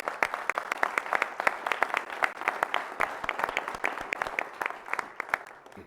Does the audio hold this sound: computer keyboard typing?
no